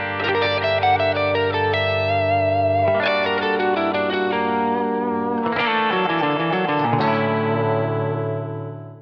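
Melodic minor–flavoured pentatonic phrases on a heavily effected instrument with distortion, chorus and echo, played as sustained, shifting note runs over a steady low drone, loud and continuous with no talk.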